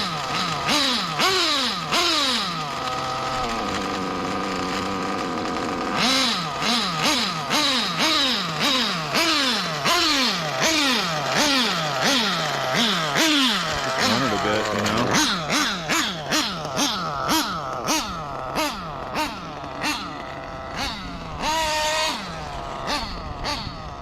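A Reds 521 Sport model engine runs on a test bench, revving up and down in a steady run of rapid, close, loud throttle bursts that climb and fall in pitch.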